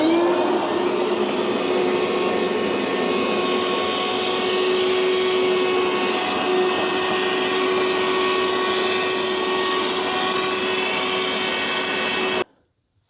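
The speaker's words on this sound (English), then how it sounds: "I'm gonna get back here real quick and just vacuum all that out." A vacuum cleaner drones loudly and steadily with a high whine, running alone for about twelve seconds before cutting off abruptly, vacuuming out an RV power converter compartment.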